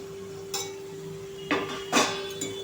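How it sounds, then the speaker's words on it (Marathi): A metal lid lifted off a cooking pot of pumpkin bhaji, with a few sharp clinks and clanks against the rim over a steady kitchen hum, close and fairly quiet. "आता आपण झाकण खोलून बघूया."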